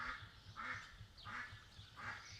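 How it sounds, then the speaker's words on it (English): A black-bellied whistling duck, a wild duck, calls while flying over, giving four evenly spaced call bursts at a fairly faint level with no talk. "There's a black-bellied whistling duck flying over. That's a wild duck."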